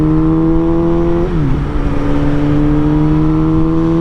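A catless Suzuki GSX-S 750 motorcycle engine runs loud and steady, its pitch dipping briefly as the throttle eases, then settling into a constant drone.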